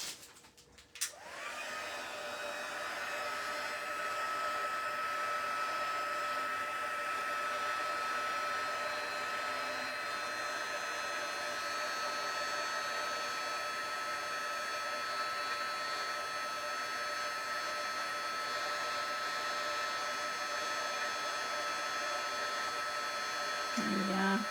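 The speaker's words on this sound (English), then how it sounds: "I'm going to bring in my heat tool." A heat embossing tool blows hot air over a stamped card with a constant whirring roar that starts after a faint click and holds steady for over twenty seconds, close by and unbroken.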